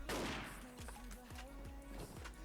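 Gunfire in an online shooter video game, a short series of rapid repeated shots with sharp decaying reports, heard fairly faintly beneath ongoing game sound.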